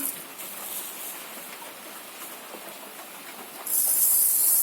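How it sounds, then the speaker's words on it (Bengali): White sesame seeds frying in a pan for coconut jaggery naru, a steady close hiss that swells louder near the end. "আমি কিছুটা সাদা তিল ভেজে নেব"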